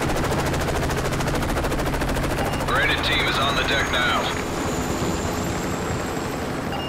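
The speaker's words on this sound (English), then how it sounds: "We're taking fire!" Gunfire and combat noise in the Call of Duty Modern Warfare 3 video game, a dense continuous battle din with a helicopter-like drone and a short burst of firing around the middle, under brief shouted game dialogue.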